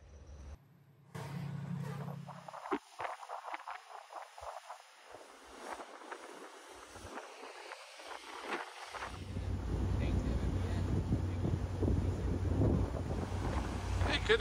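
Steady wind buffets the microphone on an open ferry deck, with a low rumble of engine and water and occasional gusts; no one speaks.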